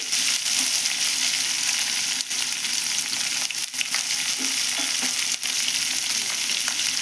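Bitter gourd and onion pieces frying in a pan with a little salt, a dense, continuous close sizzle with occasional stirring scrapes and no voices.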